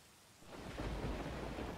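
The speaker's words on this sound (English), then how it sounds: "Thunder booms in the distance." Thunder and rain in the video game Vampires' Melody: a deep rumbling boom swells in over steady rainfall, loud and enveloping, with no voices.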